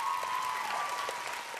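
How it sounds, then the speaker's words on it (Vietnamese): Studio audience applause on a Vietnamese TV talent show, dense continuous clapping from a crowd with a faint steady tone underneath, no speech. "Nếu em nói đúng cho em tràng pháo tay"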